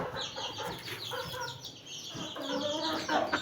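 Several hens cluck and chatter close by while being fed mixed grain, a busy overlapping stream of short calls that grows louder toward the end.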